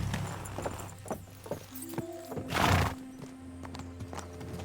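Horse hooves clip-clopping at a walking pace in the video game Kingdom Come: Deliverance 2, with a whinny in the middle and some background game ambience, no speech.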